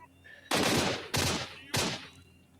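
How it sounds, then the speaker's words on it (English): Three sharp, loud gunshots from the video game S.T.A.L.K.E.R., each a sudden burst with a short decaying tail, spaced evenly about half a second apart over a quiet background. "Sorry, with the gunshots, I didn't really..."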